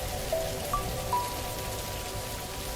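Soft, steady patter of rain, fairly quiet and continuous, with a few faint high chirps briefly rising above it.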